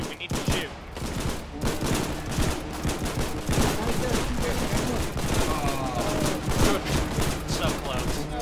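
Rapid, continuous gunfire during a naval beach landing in the war game Foxhole, dense overlapping shots of several weapons crackling steadily throughout, close and loud.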